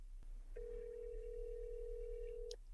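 A single long telephone ring tone sounds during a call transfer, a steady electronic tone held for about two seconds after a brief click, quiet and alone.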